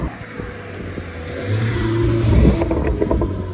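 A car engine revs up with rising rumble, followed by a few sharp crackling exhaust pops near the end.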